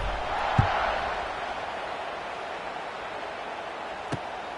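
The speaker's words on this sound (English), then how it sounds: "this crowd is buzzing after that last score" A football stadium crowd keeps up a steady, broad buzz of cheering and murmur after a score at a Rams game, with a couple of faint thumps breaking through.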